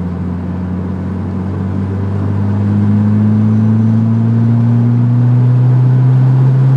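A 1989 Ford Probe GT pulls at full throttle in fourth gear from about 50 to 95, its engine a loud, steady drone that climbs slowly in pitch as it accelerates, with no speech.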